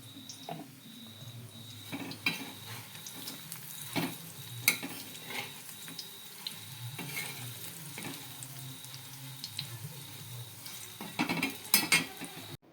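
Vadis are sautéed in a pan, giving a steady sizzle under repeated scraping stirs and occasional metallic clinks of utensil against pan, close by and with no talking.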